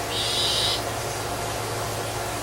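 Bird calling from indoors near a bathroom window, a single brief high call at the start over a steady low room hum.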